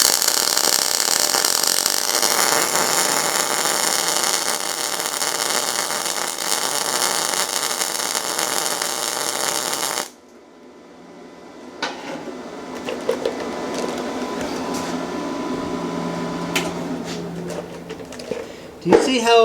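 MIG welding on metal with no shielding gas, a loud steady broadband crackling hiss for about ten seconds that cuts off abruptly, followed by quieter clatter and handling noise.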